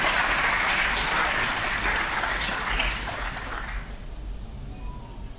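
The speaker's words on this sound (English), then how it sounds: "So a big round of applause to them." Convocation audience in a hall applauds the graduates' parents, a dense wash of clapping that fades out over about four seconds, leaving quiet room tone.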